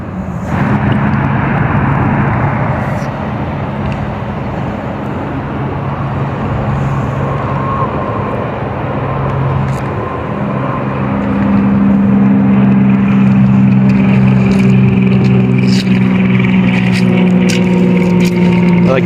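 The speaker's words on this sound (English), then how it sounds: "I like the helicopter noise during this." Helicopter flying overhead above the Clackamas River near Oregon City, a loud sustained engine and rotor drone with a droning tonal hum that swells and grows stronger toward the end.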